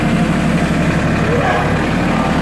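An LS compact tractor idles steadily, a loud, continuous low engine rumble close by with no break or change in pace.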